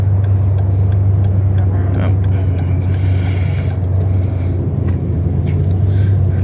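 A car drives through traffic with a steady, loud low engine and road rumble throughout, plus some passing noise, and no talk in the moment.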